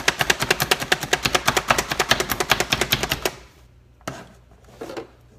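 A manual food chopper chopping peppers makes rapid, rhythmic chopping clacks that rattle in a fast steady burst for about three seconds, followed by a pause and a couple of short further chops.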